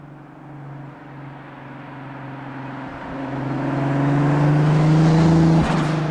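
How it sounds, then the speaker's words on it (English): Engine of a 550hp VR6 turbo swapped Audi 100 with an exhaust leak, droning with a buzzy tone while cruising, then rising in pitch and loudness as it pulls harder before easing off near the end. "It kind of just sounds like an old car with an exhaust leak, to be honest with you."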